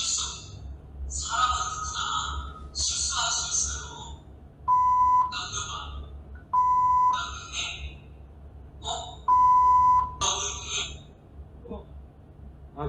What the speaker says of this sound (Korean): 중간에 삐 소리가 학생 이름이 있어가지고 삐 소리 처리를 좀 했는데